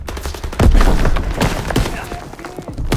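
A grenade goes off in Call of Duty WWII amid a busy firefight, with a heavy low boom swelling up early on and thuds and gunfire crackling around it. People talk over the game.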